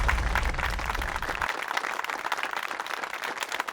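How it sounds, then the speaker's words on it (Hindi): Studio audience applause on a Hindi comedy drama set, a loud, dense wash of clapping from many hands, strongest at first and then slightly thinner as it continues. "किट्टू के लिए जोरदार तालियां हो जाए"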